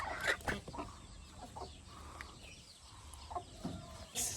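Fighting-breed chickens on a small farm cluck in short, uneven bursts close by, with a few sharper calls over a soft outdoor background; no one speaks.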